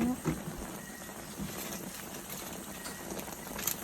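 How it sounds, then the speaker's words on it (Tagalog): Sugared water bubbling at a steady boil in a pot for chicken adobo, a continuous close, busy simmering noise with no talking. "kumukulo na siya"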